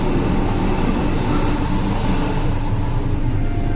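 A Vande Bharat express train rushing past up close, a loud, continuous broadband roar with no letup across the whole stretch.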